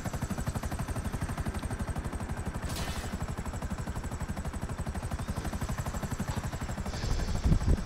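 Rapid, evenly spaced gunfire in GTA 5 Online rattles continuously as a tank rides on a tugboat, a dense machine-gun stream with a brief burst of noise partway through and heavier thumps at the end.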